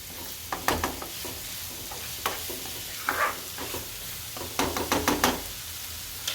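Finely chopped onion frying on low heat with ginger, chili and garlic, a steady soft sizzle with occasional stirring knocks and spoon scrapes against the pan.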